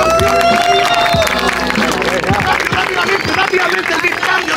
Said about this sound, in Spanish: ¡Fuerte aplauso a todos los campeones!